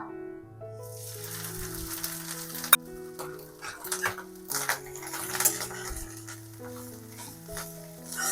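Shrimp fry in a kadai with little oil, a soft sizzle broken by repeated scraping and stirring clinks of a spoon against the pan, close and moderately loud, with music playing underneath.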